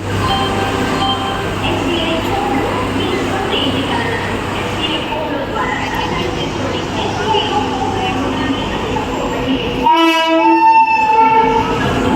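A train rumbles steadily over a busy platform with crowd chatter, then a loud horn sounds near the end.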